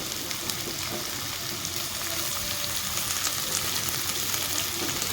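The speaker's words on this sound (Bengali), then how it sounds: "তো আলুর সাথে আমি পেঁয়াজটাকে একটু নাড়িয়ে চড়ে ভেজে নেব" Potatoes and onion fry steadily in a pan with a constant crackling sizzle and faint stirring scrapes, no voices.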